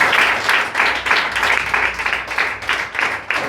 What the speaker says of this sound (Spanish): ¿Cuánto le damos un aplauso al Señor por esa palabra?